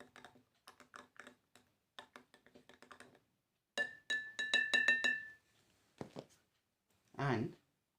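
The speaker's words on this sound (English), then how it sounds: "So I have taken powdered milk and I have put here. So stir it and mix it out." Powdered milk being stirred in a glass, quick rapid clinks of a spoon against the glass in bursts, close and fairly quiet, with brief pauses between.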